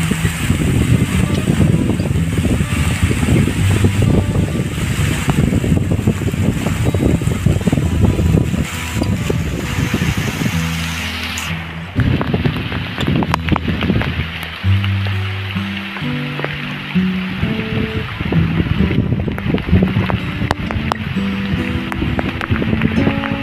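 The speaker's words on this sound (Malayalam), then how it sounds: "മഴ പെയ്തുകൊണ്ടിരിക്കുകയാണ്" Heavy rain pours outdoors near a bridge in Trivandrum, a dense, loud, continuous hiss of drops with gusty wind buffeting the microphone throughout.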